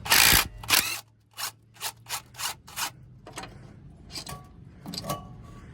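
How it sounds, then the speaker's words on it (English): A chrome socket wrench ratchets on the belt tensioner bolt of a 2012 Ford F150, giving a series of close, sharp clicking bursts in an uneven rhythm, about a dozen strokes with brief pauses, no talk. "Got me my chrome socket. And get this here tensioner off."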